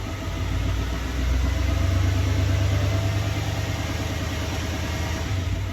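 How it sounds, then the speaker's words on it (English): A newer Chevy Duramax diesel engine idles steadily after a fuel filter replacement, a continuous low rumble with an even clatter, heard close and alone. "I'm gonna let it idle a little bit just to make sure everything's good"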